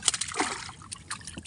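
A freshly caught pante fish thrashes and splashes, giving a quick burst of wet slaps and spatters up close, then smaller intermittent splashes.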